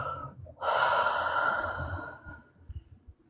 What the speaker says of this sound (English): give me a really big deep breath